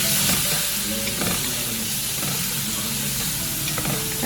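Tomatoes sizzling in hot oil in a pan for vegetable biryani, a close, steady frying hiss broken by the clatter and scrape of repeated stirring.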